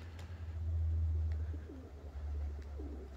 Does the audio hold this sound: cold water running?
no